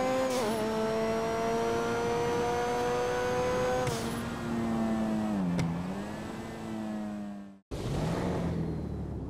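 A loud car in GTA Online revs hard with a supercharger-style whine, the engine note rising and falling steadily as it drives past, cutting out briefly near the end before roaring back.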